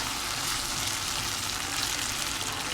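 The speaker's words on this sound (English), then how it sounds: "saute it for a minute and switch off the flame" Sausages sauté in a saucy chili mixture in a pan, giving a steady, loud, continuous sizzle with no talking.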